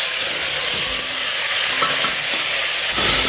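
Chicken gravy frying and being stirred in a pan, with a loud continuous sizzle and hiss and faint scraping strokes of a spoon running throughout.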